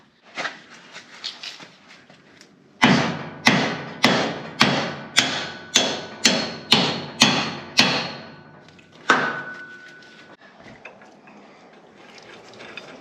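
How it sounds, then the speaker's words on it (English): A hammer strikes a metal lock nut on a trailer axle in a steady run of about a dozen sharp, ringing blows, close by, with quieter clinks and handling before and after. "Hold the nut and we got a hammer."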